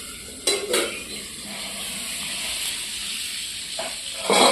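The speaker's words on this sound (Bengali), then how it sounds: "এই যে আলু ভাজা হচ্ছে এখানে।" Potatoes frying in a pan in a home kitchen, a steady close sizzle broken by brief clatters of a utensil against the pan, with no talking.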